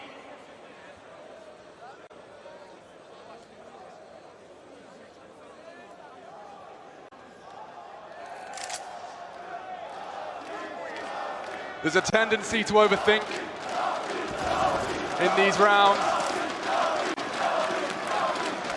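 At the PGL Major Antwerp esports arena, a Counter-Strike crowd builds from low murmur to loud roaring and cheering bursts in the second half, with a caster talking over it.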